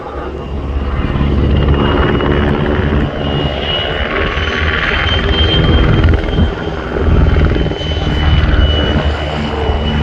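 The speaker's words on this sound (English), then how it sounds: "The PZL-W3 Sokol, or the English translation, the Falcon, is a medium-sized, twin-engine, multi-purpose helicopter" A Czech Air Force PZL W-3A Sokol, a medium-sized twin-engine multi-purpose helicopter, thunders nearby at an airshow, its loud rotor and turbine roar holding steady with slight swells, no talking over it.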